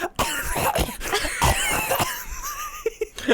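A voice imitates harsh coughing mixed with strained, choked attempts at speech, several rough bursts close up with wheezy tones in between.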